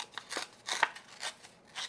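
Collage paper is torn by hand in quick, dry bursts, a handful of short rips with brief pauses between them, close and fairly quiet.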